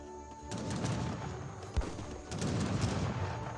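Cannon and musket volleys crackle in an Age of Empires 3 battle, a dense, moderately quiet rattle of overlapping shots with one sharp low thump midway through.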